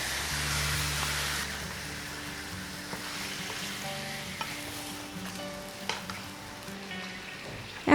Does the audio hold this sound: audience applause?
no